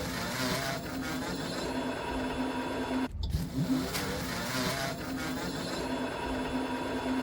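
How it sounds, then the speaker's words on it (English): Car engine idling and briefly revving to warm the motor and oil before an oil change: a steady running engine hum with a short dip and rev near the middle, heard alone without talk. "So we'll let it idle for a few minutes, but let's at least give it a couple revs, just to warm the motor and oil a little bit faster."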